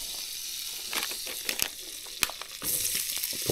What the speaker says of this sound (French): Ça, je vais faire revenir des lardons